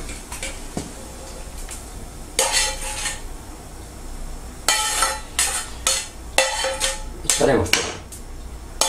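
Spoonfuls of a fried vegetable mixture (fritada) going into small clay casserole dishes make scraping clinks and clattering taps in short bursts, close and fairly loud, separated by quieter pauses.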